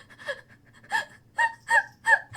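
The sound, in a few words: voice imitating sobbing and heavy breathing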